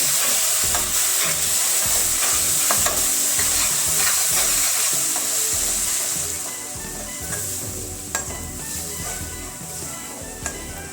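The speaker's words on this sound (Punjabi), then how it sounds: "ਹੁਣ ਅਸੀਂ ਗੈਸ ਨੂੰ ਆਪਾਂ ਹਾਈ ਫਲੇਮ ਤੇ ਕਰ ਦੇਵਾਂਗੇ ਤੇ ਤੜਕੇ ਨੂੰ ਆਪਾਂ ਹੁਣ ਇਹਨੂੰ 5-6 ਮਿੰਟ ਵਾਸਤੇ ਪਕਾ ਲਵਾਂਗੇ" Onion-tomato tadka with green chillies for a mixed vegetable curry sizzles and bubbles in a pan over a high gas flame, a steady frying hiss with frequent stirring scrapes that quietens slightly toward the end.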